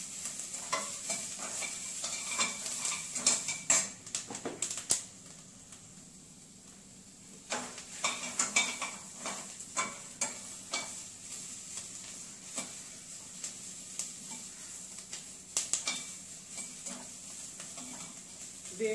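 Paneer saute salad vegetables cooked on high heat in a pan, a soft steady sizzle with repeated clicking scrapes of a spatula stirring, close but fairly quiet.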